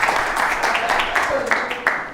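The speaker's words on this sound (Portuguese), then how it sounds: "Uma salva de palmas para o Fernando." An audience applauds for a participant at a sales-technique talk, a steady dense wash of clapping that holds at an even level throughout without any voices over it.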